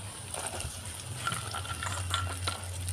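Steady sizzling of jackfruit seeds added to a frying pan for a prawn curry, with spoon stirring and scraping, a few clinks of utensil on metal, close and continuous with no voices.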